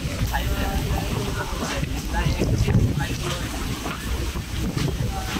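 A Dhaka-bound passenger launch from Monpura rides out a sudden Kalbaishakhi storm on the river, with wind and rain roaring steadily and loudly against the boat throughout.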